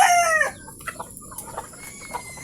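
Chickens in a small backyard coop cluck and call at feeding time, with one loud drawn-out call at the start followed by scattered shorter clucks nearby.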